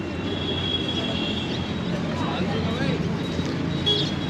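Steady rumble and hiss of a metro train at a station near Kartavya Path in Delhi, with faint wheel squeal and a background hubbub of voices throughout.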